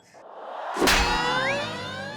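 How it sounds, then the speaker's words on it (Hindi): A single sharp metallic bell strike rings out, its bright tone lingering and slowly fading with shimmering overtones. "घंटी बजा के।"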